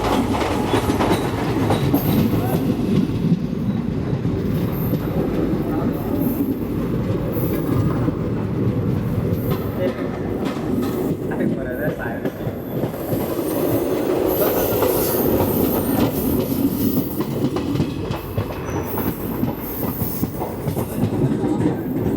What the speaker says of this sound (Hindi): मडगांव हापा एक्सप्रेस शंटिंग के लिए रेडी है